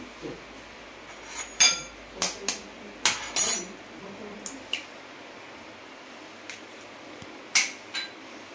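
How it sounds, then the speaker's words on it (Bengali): An egg is cracked into a bowl of fish marinade with ginger and garlic paste, giving several short, sharp taps and clinks against the rim, close up, separated by quiet gaps. "একটা ডিম ফাটিয়ে দিয়ে দিচ্ছি"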